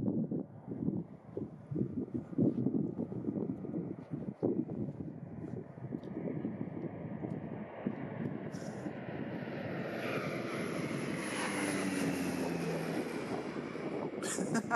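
An aircraft flies low past a camp on a huge iceberg, a distant rumble that slowly swells and brightens into a rising whine as it nears.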